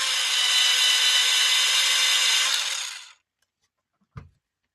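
A colored pencil is ground in a sharpener with a steady, close, rasping whir lasting about three seconds, then stops; a single light tap follows after a short silence.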